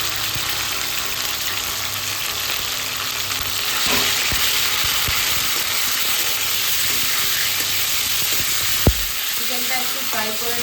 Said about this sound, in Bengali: এই দেখো তেলের মধ্যে চিকেনটা দিয়ে দিলাম।